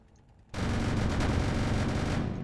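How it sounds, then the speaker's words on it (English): A rotary cannon Gatling gun fires in the video game Sprocket, a sudden loud continuous roar of rapid shots that starts abruptly and holds steady without pause. "this one has the discussed rotary cannon, Gatling gun that we talked about"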